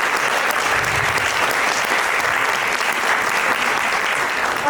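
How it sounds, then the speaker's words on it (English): Audience at a literary festival panel applauds the panelists, a dense, steady burst of clapping that fills the room without pause and with no speech over it. "a big round of applause for our panelists"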